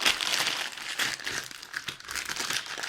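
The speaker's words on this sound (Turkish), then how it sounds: "Poşetleri şuraya atıyorum." Plastic shopping bags are tossed aside in a home kitchen, giving close, crisp crinkling and rustling in uneven bursts that rise and fall over a few seconds, with no talking.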